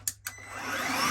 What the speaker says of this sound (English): That is probably the smallest upright vacuum cleaner I've ever had